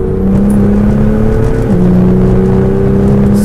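Modified BMW M2 built into a GTS-style car with composite aero, driven around a race track; a loud, steady engine drone holds one pitch, then drops after a gear change, with no talking.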